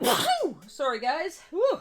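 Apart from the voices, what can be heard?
sneeze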